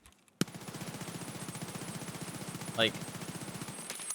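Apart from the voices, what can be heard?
gunfire from a rifle in a video game, full magazine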